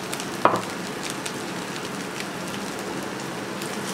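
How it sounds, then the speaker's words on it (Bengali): Garlic and dried red chilies frying in mustard oil, a steady soft crackling sizzle that holds evenly throughout, with one brief sharper pop near the start. "রসুনটাকে একটু বাদামি করে ভেজে নেব।"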